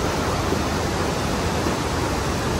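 Waterfall at Johnston Canyon in Banff, a steady, dense roar of falling water filling the scene, close and constant with no break or voices.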